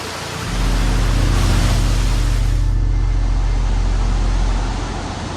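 A waterfall in Bali roars as a loud, steady broadband rush of falling water, constant and close for several seconds before easing slightly at the end.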